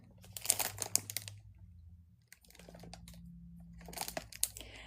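A plastic bag is handled up close, giving quiet, irregular bursts of crinkling and rustling with short pauses between them, and no talking.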